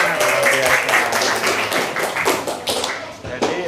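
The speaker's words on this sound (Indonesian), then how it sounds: "beri tepuk tangan" An audience applauds in a classroom-style gathering: a dense, steady patter of many hands clapping together, fairly close and loud throughout, with voices mixed in underneath.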